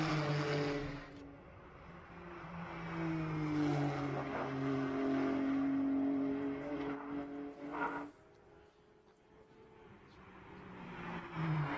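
GT race cars, Acura NSX among them, roar past at a Canadian circuit during a Blancpain GT World Challenge USA race, with loud sustained engine drones rising in pitch before fading and a new approach building at the end.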